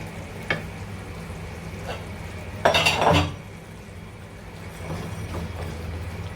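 Spiced marinated chicken being stirred in a pot for basmati chicken pulao, with a soft sizzle underneath, a few spoon scrapes and clinks, and one louder rattling stir in the middle.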